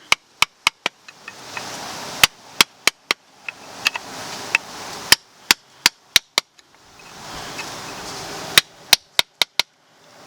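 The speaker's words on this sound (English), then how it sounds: "just get a hammer, just try to tap it out" A hammer strikes a flathead screwdriver to tap out a part of the rear drum brakes on a 2010 Nissan Versa, producing sharp metallic taps in irregular bursts of several hits with short pauses, close and clear.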